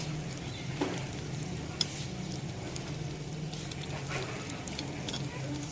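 Milk-dipped bread slices fry on a hot griddle with a steady, low sizzle and faint crackle, continuous and fairly quiet throughout, with a few soft clicks along the way.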